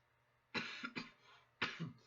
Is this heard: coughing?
yes